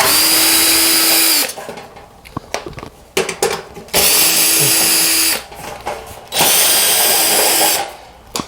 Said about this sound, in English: Now, we just gotta open up, these top screws.